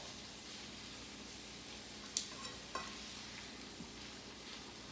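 Rice noodles with vegetables and bean sprouts cooking in a pan, a soft steady sizzle with a few light clicks of a utensil against the pan, quiet and without talk.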